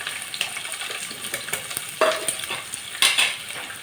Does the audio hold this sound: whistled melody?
no